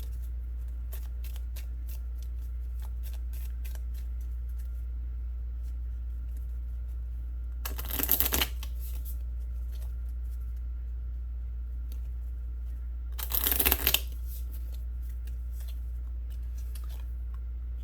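An oracle card deck is shuffled in two short, crisp riffling bursts a few seconds apart, close by, over a steady low hum with faint taps between.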